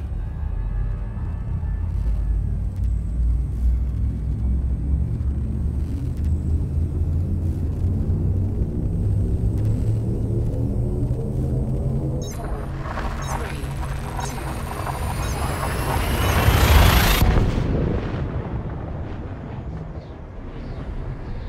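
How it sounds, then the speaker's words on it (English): Frameshift drive in the space game Elite Dangerous charging with a low, rising rumble that climbs steadily in pitch, then surges into a bright, loud whoosh as the jump kicks in before fading. "Frameshift drive charging."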